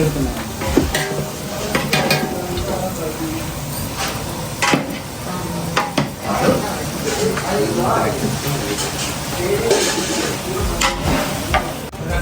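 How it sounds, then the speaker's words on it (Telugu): Chicken with fried onions being stirred in a pot, a steady sizzle with scraping and clinking of a ladle against metal, while people talk in the background throughout. "ఇందులో చికెన్ ఇప్పుడే వేసాము కలుపుతున్నా"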